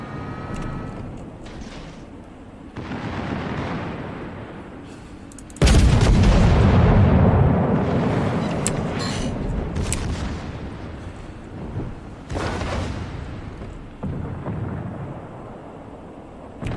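Torpedo hits on an enemy destroyer in a naval video game explode in a massive, sudden boom that rolls on and slowly decays, followed by several further heavy thuds and rumbles against lower background battle noise.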